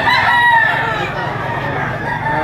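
Young bullstag roosters at a poultry auction market crow loudly and continuously over a dense, noisy crowd background.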